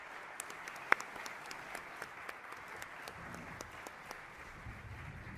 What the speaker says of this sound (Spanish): quisiera pedirle un aplauso para los ponentes para poder entregar sus diplomas.